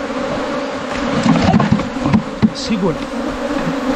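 Honey bees (Apis) buzz in a hollow tree at dusk, a dense, continuous droning swarm up close, with a few thumps and brief voices over it.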